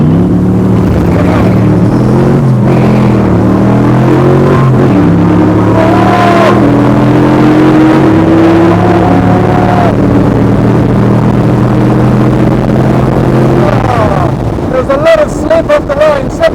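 A car launching hard off the line in a drag race, engine climbing in pitch through the gears with rough shifts, heavy wind buffeting the microphone, and a voice talking over it near the end.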